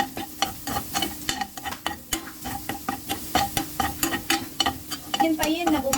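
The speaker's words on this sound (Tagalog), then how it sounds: "Tutuin natin ng konti yung bawang." Garlic sautéing in a pan while a spatula stirs and taps in quick, regular strokes, the sharp scraping clicks loud and near over a light continuous sizzle.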